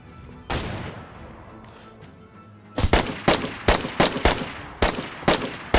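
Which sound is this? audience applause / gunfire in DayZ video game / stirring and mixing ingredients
gunfire in DayZ video game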